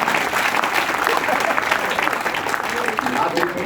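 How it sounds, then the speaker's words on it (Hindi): Steady applause from a crowd at a Hindi poetry recital by poet Gajendra Solanki, continuous and fairly loud throughout without any break. "ताली बजा सकते हैं।"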